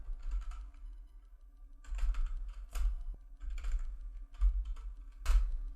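Sparse typing on a computer keyboard while making a voucher entry in Tally Prime accounting software: scattered single keystrokes and a few louder, sharper key presses, close and without speech.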